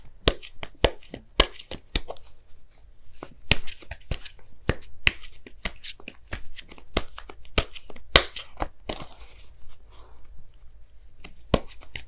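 Oracle cards are shuffled and drawn by hand, giving a sparse series of sharp, close card snaps and riffles. Soft rustling papery sounds fall between them, with no talking.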